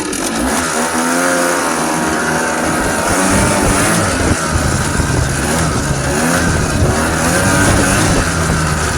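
A 1980s CVT machine accelerating hard from a standstill, a loud, close engine whine that climbs and sweeps upward in pitch, then holds a sustained, rising drone with continuous rumble underneath.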